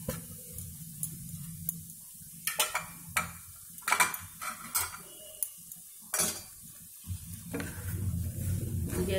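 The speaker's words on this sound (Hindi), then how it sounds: "अब सूजी डालनी है इसमें और सूजी को दोबारा से इसमें भूनना है घी में" Semolina roasting in ghee for halwa while a spoon scrapes and stirs the pan, with intermittent metallic clinks and scrapes over a low steady sizzle, close up, no voices.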